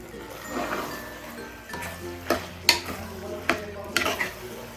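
Chicken liver and gizzard fry in a pan with a steady sizzle while a spoon stirs and scrapes, giving several sharp metallic knocks toward the end, with a voice talking nearby.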